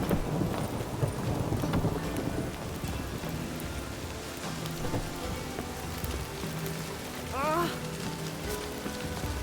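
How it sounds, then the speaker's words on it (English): Steady rain falls in The Witcher 3 video game, a dense hiss on surfaces with low rumbles and a brief tonal sweep near the end, loud and continuous throughout. "It just rains and rains."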